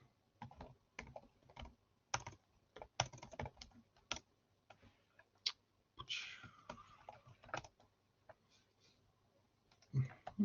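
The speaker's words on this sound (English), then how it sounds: "It really does stress my bad typing doing this live." Fingers type on a computer keyboard during live Python coding, producing quiet, irregular bursts of sharp clicks with short pauses, close to the microphone, and a brief voice partway through.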